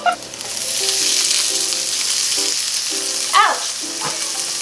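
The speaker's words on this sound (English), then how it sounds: "now I'm gonna add these juicy wet tomatoes to this pan" Juicy wet tomatoes hitting a piping hot skillet give a loud, steady sizzle and hiss close up. A spatula stirs and scrapes now and then, with a brief sharp clatter near the end.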